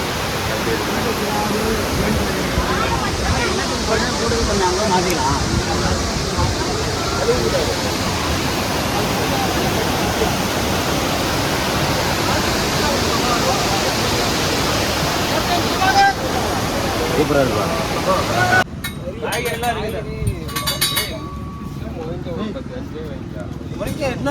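Heavy rushing water roars continuously from a nearby waterfall at Courtallam in heavy flow, a dense steady wash of noise; near the end the sound briefly changes, and voices may be faintly present.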